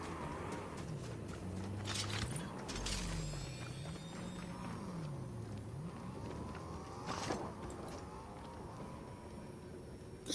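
A car in the video game Fortnite drives off, its engine droning and swelling in wavering revs with scattered clatter and thumps from the game.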